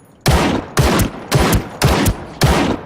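Gunfire in the battle-royale game Ring of Elysium: five loud, close bursts of shots spaced about half a second apart, each a sharp cracking volley.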